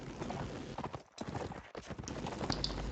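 Horses in a multiplayer strategy video game gallop in a quick clip-clop rhythm, hooves thudding in bursts with brief gaps, fairly close and moderately loud, with a faint background game murmur.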